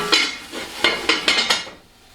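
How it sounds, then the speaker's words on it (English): Metal pot lid set onto a pot of broccoli and chicken stock on the stove, a few close clinks and rattles over about a second and a half before settling, with no talking. "And I'm going to put a lid on this and I heat down to medium."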